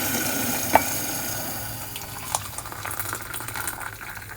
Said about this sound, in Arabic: المية غليت